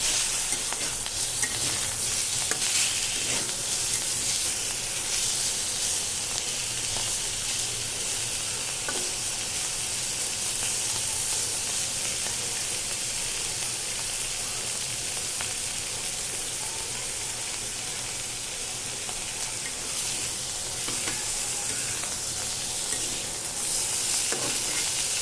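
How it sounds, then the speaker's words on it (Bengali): Teasel gourd pieces frying gently in a little oil, a dense, even sizzle with faint stirring scrapes that carries on unbroken for the whole stretch, with no talk. "এখন এগুলোকে সুন্দর করে ভেজে নিতে হবে।"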